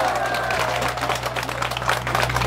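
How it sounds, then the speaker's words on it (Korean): Crowd at an outdoor press conference in Yangju, Gyeonggi Province, clapping together: a dense, moderately loud patter of hands over a steady low hum, with a brief voice or tone near the start. "박수를 한번 크게 쳐주세요."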